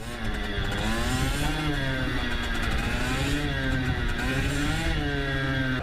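A learner's motorcycle engine revs up and down as the throttle opens and eases, with a rising and falling whining drone, close and loud throughout, without talk.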